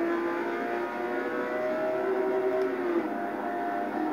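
Bugatti race car engine in a racing video game, a steady droning roar with a brief rising whine midway, heard alone without talk.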